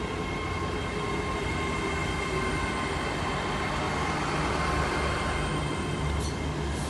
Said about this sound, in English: class 802 coming into Exeter St David's